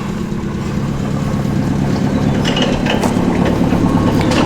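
A Nissan 30 forklift engine idles steadily and loudly while the side shift works, with faint mechanical clanks and knocks rising over the constant rumble toward the end.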